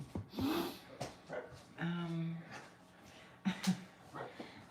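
A dog gives a few short barks and snorts close by, mixed with breathing and human voices talking over it.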